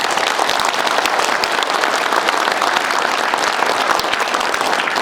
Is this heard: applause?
yes